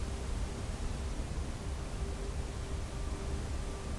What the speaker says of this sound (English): Just the waterfall?